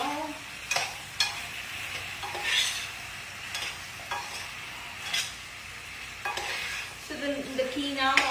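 Apples and brown sugar stirred in a hot pan, with a soft steady sizzle and repeated scraping strokes of a spoon against the pan, close and fairly quiet, no talking.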